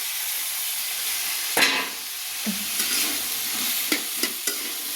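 Spice paste frying in a pan with a steady sizzle, a spatula scraping and stirring through it in close, repeated strokes, with a few sharp clicks of metal on the pan.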